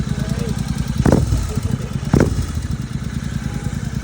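A motorcycle engine runs steadily close by as the bike is ridden, with a rough idling throb and two short revving bursts.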